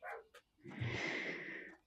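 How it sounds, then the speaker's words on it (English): Neighbor's dogs barking somewhere in the background, a short run of overlapping barks lasting over a second after a brief quieter yelp, moderately loud and unaccompanied by talk. "Sorry about the dogs in the background."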